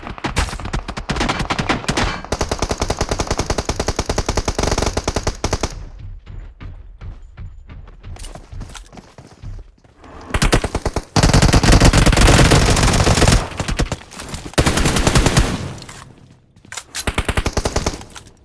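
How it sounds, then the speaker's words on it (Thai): Rapid automatic gunfire from a PUBG Mobile match, long bursts of dense machine-gun fire that stop, then resume in loud volleys with scattered single shots, loud and close throughout. "ยิงเราแล้ว"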